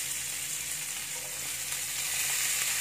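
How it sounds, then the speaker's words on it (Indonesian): Garlic chives stir-frying in a hot pan, a loud continuous sizzle close by without pause, no talking. "Lalu kita masukkan kucainya, kita tumis dulu kucainya"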